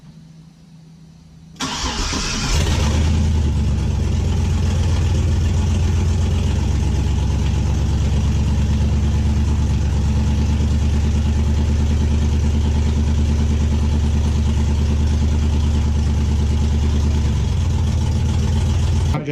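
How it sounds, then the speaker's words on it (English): A C10 pickup truck with a new 7875 turbo and open exhaust starts for the first time. Silence gives way to a loud crank and catch, then a steady, rough, rumbling idle that continues close up to the end. "I guess you're about to see the first fire up with the new 7875 turbo on"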